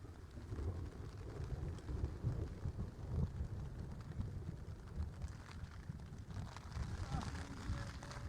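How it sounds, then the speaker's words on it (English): Thunder in a dark night storm in Pembrokeshire, heard as low, rolling rumbles mixed with wind buffeting the microphone and a steady wash of rain, continuous and fairly faint. "and that's the thunder"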